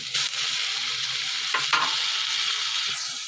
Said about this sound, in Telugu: వేగిన తర్వాత అప్పుడు టమాటా వేద్దామండి టమాటా వేసేస్తున్నానండి